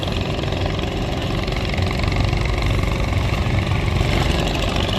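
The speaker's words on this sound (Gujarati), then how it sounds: "બોટ ધીમે ધીમે સ્ટાર્ટ થઈ ગઈ છે" A motor boat engine at Omkareshwar runs as the ride starts, holding a steady, loud mid-to-low drone from close by with no talk over it.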